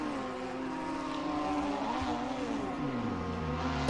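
Race car at Oulton Park spinning out during an AF4 race, engine notes wavering and sliding in pitch over a continuous track roar, ending in a sharp knock.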